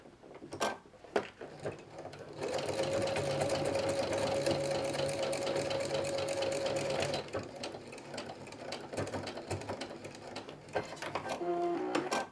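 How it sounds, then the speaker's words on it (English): Sewing machine stitching a 1/4 inch seam on plush fabric, a close, steady whirring chatter running for several seconds after a few clicks, then stopping, with soft handling noises around it. "I'm just going to sew along this line here in my 1/4 inch seam allowance"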